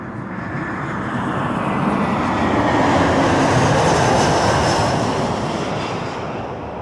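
Airbus A321-211 airliner on the move at Toronto Pearson Airport, a broad steady engine roar that swells to a peak midway and then slowly eases, heard alone without talk.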